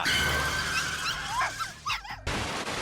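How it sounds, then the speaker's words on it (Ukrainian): Small pug puppies yip and whimper in short, high bursts, close by, over a steady background hum. "ми знову чуємо мопсів"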